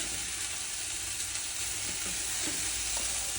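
Leftover food being stirred together in a small pot in a small kitchen over a steady loud sizzle, with faint scraping clicks of the utensil throughout.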